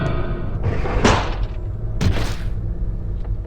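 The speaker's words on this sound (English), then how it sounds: "As soon as I reached the hallway, I fell to my knees with a thud." A character dropping to their knees with a thud in the horror video game Corpse Party: Book of Shadows, two dull thumps about a second apart over a low droning game ambience.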